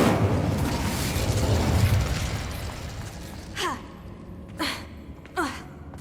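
Fire spells cast in Hogwarts Legacy: a rushing, crackling wash of flame gives way to three sharp whooshing bursts, each rising and fading quickly, with a faint gasp-like breath among them.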